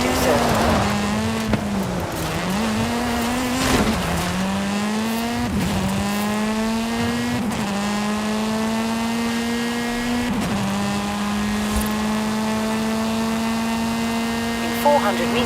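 Volkswagen Golf GTI driving in Forza Horizon 5, a loud engine note rising in pitch through each gear and dropping at every shift, repeating several times, with a voice speaking over it.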